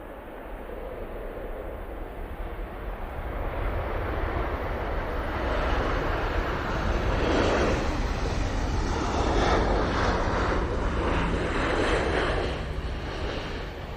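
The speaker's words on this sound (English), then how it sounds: "coming in now, we have the Corendon coming in from Heraklion" A Corendon airliner arriving from Heraklion, its engine roar rising and then holding as the aircraft draws near, with wind buffeting the microphone and faint talk in the background.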